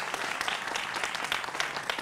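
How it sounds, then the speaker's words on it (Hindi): Studio audience on a Hindi political talk show applauds the guests, a steady dense burst of clapping throughout. "तो जोरदार तालियां होनी चाहिए"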